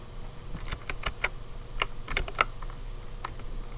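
Computer keyboard keys are pressed in short clusters while working Excel shortcuts, crisp close clicks and taps coming in small irregular bursts over a quiet background, with no voices.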